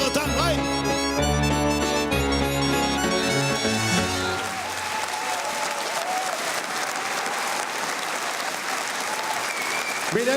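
Audience applause at a French awards show as a song ends, the final music chords giving way to a loud, sustained clapping crowd.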